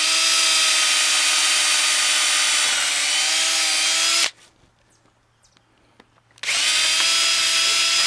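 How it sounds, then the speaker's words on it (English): A power drill pre-drills holes for lag bolts while stair rails are built on a deck. It whines loud and close in a long steady run, pauses for about two seconds, then starts again. "I'll just pre-drill these holes."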